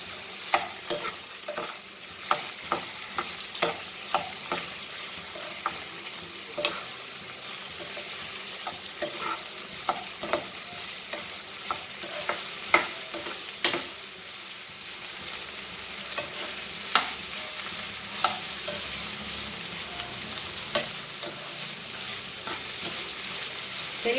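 Goan pork sausages with okra (bhindi) fry in a pan, a constant sizzle broken by regular scraping, knocking strokes as they are stirred over a long stretch, close and without speech.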